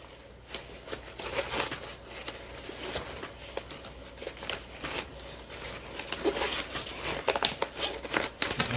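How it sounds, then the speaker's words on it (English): Up close, a zipper rasps in short, uneven pulls around the corner of a case for a NEEWER X12 aluminum teleprompter, mixed with crinkling and rustling of fabric as it works its way closed. "And then you just zipper it closed."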